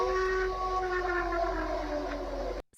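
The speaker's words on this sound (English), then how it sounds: "It sounds like an air siren, like an air raid siren." Wailing, air raid siren-like tone in a horror video game, a long sustained moaning howl with slowly shifting pitch that cuts off abruptly at the end.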